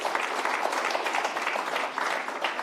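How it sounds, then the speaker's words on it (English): An audience at an energy industry talk breaks into applause for a speaker, a dense, even burst of many hands clapping, loud and close, continuing steadily across the whole stretch. "let's give her a round of applause."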